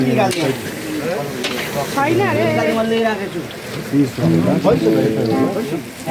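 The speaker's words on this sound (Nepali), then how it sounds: "जसरी यहाँ पर्क ड्राई फ्राई हुँदो रहेछ" Pork dry-frying in a large pan for a church Christmas celebration, a loud close sizzle running underneath continuous talk from a person nearby.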